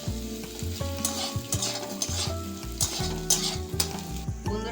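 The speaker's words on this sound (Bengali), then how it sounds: "পেঁয়াজটা আমি একটু লাল লাল করে ভেজে নেব।" Onions sizzle steadily as they fry in a pan for a ridge gourd curry, with occasional stirring bursts. Loud, sustained tonal background music plays over the frying.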